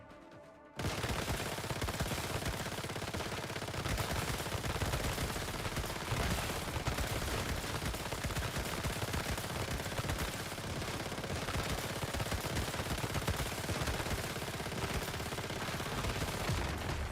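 Sustained rapid automatic gunfire from a free weapon in the game Once Human, a loud continuous rattle of shots running almost without a break.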